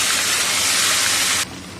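Onion paste dropped into hot oil left from frying fish, with cardamom, cloves and cinnamon, a loud close steamy hiss that cuts off sharply near the end.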